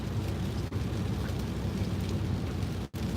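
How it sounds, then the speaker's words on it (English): Heavy rain pours down around a car being driven, a steady dense wash of noise with low road rumble underneath, continuous and close with no voices. "it's pouring down rain, so that don't help"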